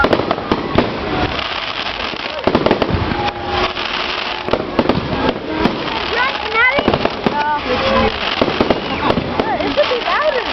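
Fireworks, including cherry bombs, crackle and pop in dense irregular bursts throughout, with sharp reports and whistling streaks nearby, while several people talk and shout over them.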